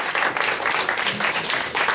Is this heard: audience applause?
yes